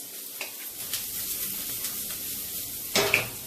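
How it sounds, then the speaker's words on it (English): Broccoli sizzles in a hot pan for shrimp fried rice, a steady crackling fry close by, with a few clinks and stirring scrapes of utensil against the pan and no talking. "Now we're going to add broccoli. And let it cook up really nice."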